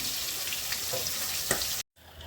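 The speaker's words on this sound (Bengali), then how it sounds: "এই মাছটা ভাজার পর আর কটা ভাজবো," Fish frying in hot oil for a black cumin fish curry, a steady close sizzle with occasional pops, cutting off abruptly near the end before a quieter hiss resumes.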